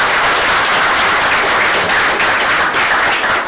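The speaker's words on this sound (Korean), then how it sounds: "김재구 원장님을 뜨거운 박수로 환영해 주시면" Hearty applause from an audience at a social enterprise forum welcoming a guest speaker, very loud, dense and sustained throughout, with no voices heard.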